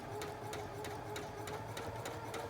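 A sewing machine stitches rag doll fabric in a rapid, even rhythm, its motor humming steadily beneath regular needle clicks, close and fairly quiet.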